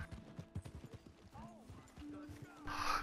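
Horse hooves clip-clop in a steady, quick rhythm in Red Dead Redemption 2, fairly close and moderately loud, mixed with game ambience, a brief whinny-like tone and talk over the top.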